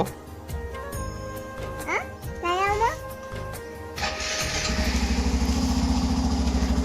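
A motorcycle engine starts partway through and settles into a steady, throbbing idle, with people talking and a cat-like cry earlier.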